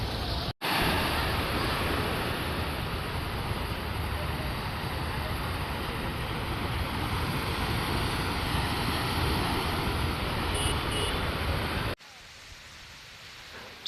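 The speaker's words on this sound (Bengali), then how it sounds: "কিভাবে ঢেউ দিচ্ছে, কিভাবে ঢেউ হারিয়ে যাচ্ছে" Constant windy rush of sea waves at Kuakata beach, a broad roaring wash with wind buffeting the microphone, cutting off abruptly near the end; faint talk may sit beneath.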